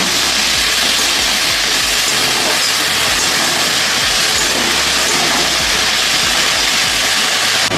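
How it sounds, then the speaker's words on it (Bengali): Potatoes sautéing with ginger-cumin paste and green chillies in a pan, giving a loud, steady, steam-like hiss and sizzle that runs unbroken throughout, with faint scraping underneath. "এবার আদা জিরে বাটার সঙ্গে আলুটাকে খুব ভালো করে আমি কষিয়ে নেব"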